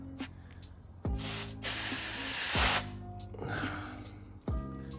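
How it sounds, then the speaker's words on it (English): Compressed air blasts into a Nissan Z32 300ZX brake caliper to push the piston out, several sharp hissing bursts close up, the longest lasting over a second, separated by quieter pauses. "Take the compressed air here."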